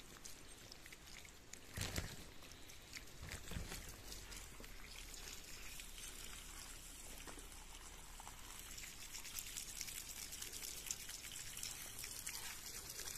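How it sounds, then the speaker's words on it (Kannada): Pure spring water flowing steadily and freely without a pump, a continuous soft trickling rush that stays even and moderately distant throughout, with a brief knock early on. "ಎಷ್ಟು ಚಂದ ನೀರು ಬರ್ತದೆ"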